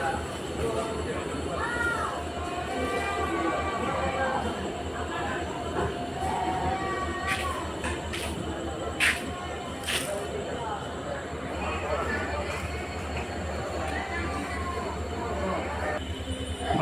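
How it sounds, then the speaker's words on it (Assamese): A Guwahati train stands idling at Patharkhola railway station, giving a steady broadband rumble and hum with scattered sharp clicks, while voices murmur faintly in the background. "এইটো হ'ল গুৱাহাটী চকবি ট্ৰেইন ৰখি আছে।"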